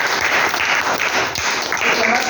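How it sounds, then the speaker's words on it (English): Audience applause greeting a guest at the start of an onstage conversation, dense and steady clapping throughout at a fairly loud, close level. "Please give him a big round of applause"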